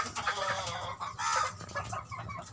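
A hen near a cage set out for laying eggs clucks repeatedly in short, uneven bursts, close and fairly loud, with other fowl noise around and no talking.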